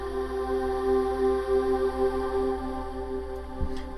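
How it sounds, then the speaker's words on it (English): Sustained ethereal, angelic vocal drone pad layered with a string section in a melodic techno production, holding steady tones with a slow, gently swelling level, alone with no talk. "I layered that pad with a string section and then this really cool, ethereal, almost angelic vocal drone that sounds like this."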